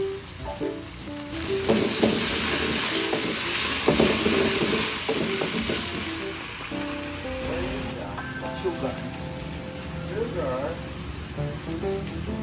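Canned sardines added to a hot pan with tomato, chili and shallot, sizzling and frying loudly, with scattered clinks and scraping of stirring and music-like tones later on.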